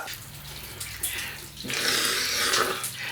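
Water splashes and pours during a bath, starting as a softer trickle and then turning into a louder, steady rush of splashing after about a second and a half.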